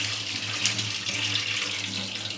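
Tap water runs steadily into a sink while red lentils are washed, a splashing hiss, close and continuous, with faint movement in the water.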